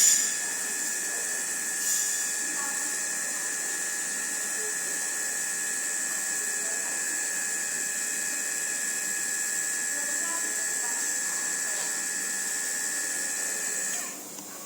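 Water softener control valve motor running while it changes program, a steady high whine and buzz lasting over ten seconds, then stopping.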